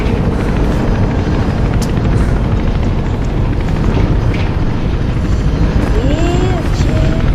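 Helicopter in the video game Mirror's Edge, a loud continuous rotor thrum that fills the whole stretch without letup, with a few brief tonal game sounds near the end.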